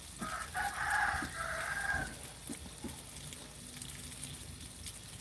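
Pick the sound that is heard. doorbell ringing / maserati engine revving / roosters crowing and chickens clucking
roosters crowing and chickens clucking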